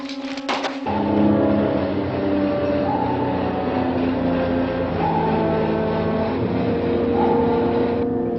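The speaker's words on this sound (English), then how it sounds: "Engine room, slow it down to 12 knots." A submarine's engines run as a dense, steady mechanical drone that slows toward 12 knots, a loud, continuous hum with layered tones and no talk above it.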